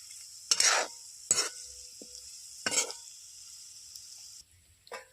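Potatoes being stirred in a hot pan for a Gujarati potato bhaji, with a steady sizzle underneath and four or five distinct scraping stir strokes at uneven intervals, close and fairly loud, no talking.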